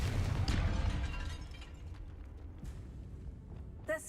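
A Confringo blasting spell goes off in the Hogwarts Legacy video game, a broad rumbling blast that fades slowly into a low, crackling decay, with a short sharp pop near the end.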